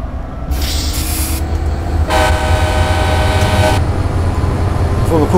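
An F59PHI locomotive's horn sounds in Train Simulator, a loud sustained honk of almost two seconds over the steady rumble and clatter of the moving train, with shorter toots before it.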